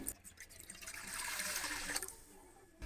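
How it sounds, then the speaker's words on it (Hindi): One litre of water poured into a pan on a stove for chicken macaroni, a brief, steady splashing rush close up that fades at the end. "अब मैं इसमें डालूंगी 1 लीटर पानी।"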